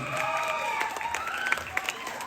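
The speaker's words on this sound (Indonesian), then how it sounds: "tepuk tangan untuk Topati" A crowd at a comedy show applauds with scattered claps and faint cheering, moderately distant, under tonal background sound and some voices.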